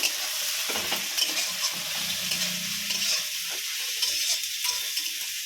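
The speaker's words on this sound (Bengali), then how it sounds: "আমার রসুন আর পেঁয়াজ ভালোভাবে আমি কষে নিয়েছি" Meat frying in a pan with onion and garlic paste, a steady dense sizzle throughout with occasional stirring scrapes, close and fairly loud, no voices.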